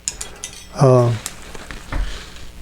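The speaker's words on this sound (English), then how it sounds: "Put a few white trunks in here in some places by just scraping down like this." A palette knife scrapes oil paint down a canvas in one short rasping stroke near the start, with faint taps and a soft thump afterward in a quiet room.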